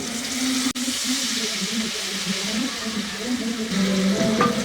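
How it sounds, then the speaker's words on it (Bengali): Ground spice paste fries in hot oil in a wok with a continuous close sizzle and hiss, and one short stir near the end. "তেল গরম করে তার মধ্যে এই যে মশলাগুলো বাটলাম এগুলা দিয়ে একটু ভুনে নিব"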